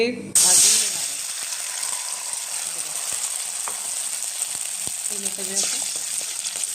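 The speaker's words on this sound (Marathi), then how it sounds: "भाजून घेणार आहे, छान परतून घेणार आहे साजूक तुपामध्ये." Ground fragrant rice roasts in ghee in a kadhai for kheer, making a continuous close sizzle with occasional ladle scrapes and taps. A loud burst opens it and a voice speaks briefly under the frying.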